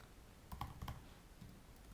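Soft, quiet keystrokes on a computer keyboard, a handful of light taps in a brief irregular burst with no talk.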